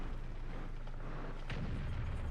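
A deep tank cannon shot in World of Tanks, fired by a T-62A-era battle tank, booms once near the middle over a low, rumbling battlefield drone, moderately quiet overall.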